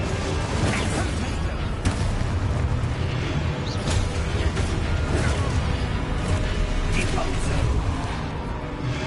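Spell explosions in a wizarding video game boom and crash amid a busy, loud battle mix, with repeated bursts and whooshes layered under voices shouting.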